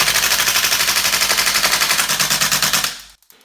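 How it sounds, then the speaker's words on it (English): A VFC HK416A5 gas blowback airsoft rifle fires a fast, continuous fully automatic burst of closely spaced sharp cracks for about three seconds, loud and close, then stops abruptly. "Fully automatic is also very exciting, however it isn't something this weapon system does best."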